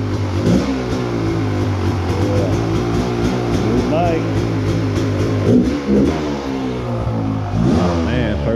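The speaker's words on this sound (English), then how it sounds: "Oh man, first time riding a two-stroke." A Gas Gas XC 300 two-stroke dirt bike engine runs close by, its buzzing note rising and falling as the throttle is blipped repeatedly.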